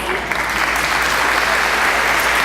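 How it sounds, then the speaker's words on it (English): Steady applause from an audience at a high school girls volleyball all-star game, dense continuous clapping at even loudness throughout with no break. "giving Mr. Peter Ferrari a huge round of applause"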